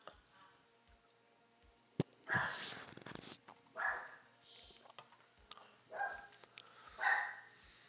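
A dog barks several times at a distance, sharp separate woofs spaced a second or so apart in an otherwise quiet room.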